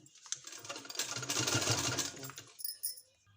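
A sewing machine runs a brief burst of stitching through trouser fabric while a palazzo pant is assembled, its quiet whirring rising for about a second and a half and then stopping, with no talking.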